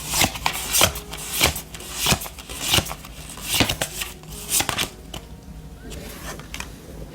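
Oracle cards are shuffled by hand with a series of crisp, close riffling and slapping bursts in a steady rhythm, thinning out toward the end.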